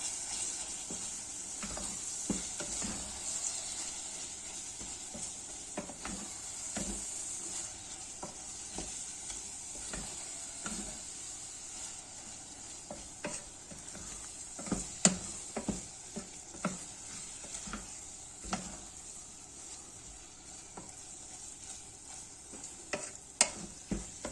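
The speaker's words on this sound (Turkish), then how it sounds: "baharatları tercihinize göre değiştirebilirsiniz. Karıştırıyoruz." Spiced içli köfte dough mixture with red pepper being stirred in a bowl, a steady run of scraping, squelching strokes with sharper clicks toward the end, heard close and alone.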